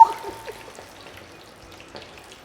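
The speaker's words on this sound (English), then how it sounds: "I will start frying." Split peas fry in hot oil in a pan for Trinidad-style fried split peas, giving a soft, steady sizzle with scattered light crackles close by. A brief clatter opens the sound.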